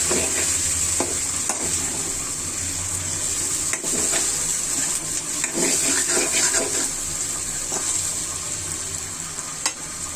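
Tilapia pieces coated in gram flour with yardlong beans, in mustard paste, stirred continuously in a frying pan, giving a steady close sizzle broken by repeated scraping strokes of the spoon against the pan.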